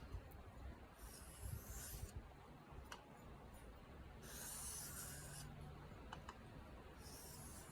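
A knife blade is drawn across a sharpening stone, the bevel resting flat on the stone, in repeated rasping strokes with a steady rhythm, close and moderately quiet, with no talking.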